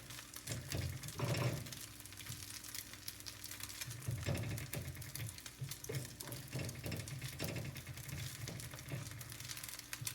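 An egg fries in a hot pan, giving a steady, close sizzle with crackling pops that swell and fade over about ten seconds, with no talking.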